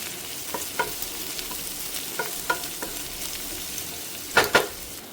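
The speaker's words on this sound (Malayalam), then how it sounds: "നല്ലതുപോലെ ഒന്ന് വഴറ്റിയെടുക്കാം." Ginger, green chili, garlic and onion sauté in coconut oil with a constant crackling sizzle. Sharp scraping clacks of a spoon against the pan break through, loudest near the end.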